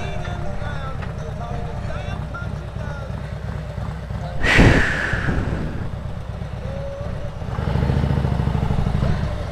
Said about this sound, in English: There's a motorcycle